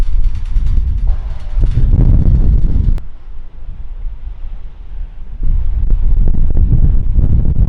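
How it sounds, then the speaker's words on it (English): Strong wind buffets an outdoor wooden stairway that shakes, a loud rushing roar against the microphone that eases briefly midway and then surges back. "Wow, that wind is crazy right now."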